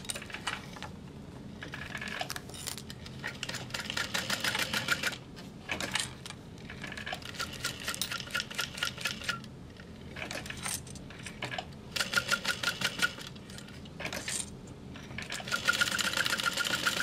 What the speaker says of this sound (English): I just sewed across that as a square